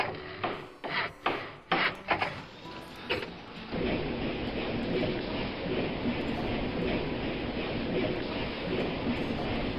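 A train runs in the Railroad Tycoon 2 video game: a few sharp clacks open, then a steady, dense rumbling roar carries on without a break.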